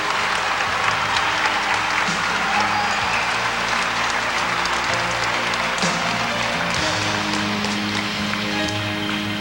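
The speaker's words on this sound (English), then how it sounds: "Let's give all of them a round of applause for their competition tonight." At the 1998 Miss Arkansas Pageant, a large audience in a hall gives the contestants a long, sustained round of applause, a thick, even roar of clapping lasting over nine seconds with faint voices beneath.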